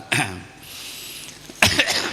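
A man coughs from an allergy he has had for about half a month, two harsh bursts close by, one at the start and another near the end, separated by a quiet pause.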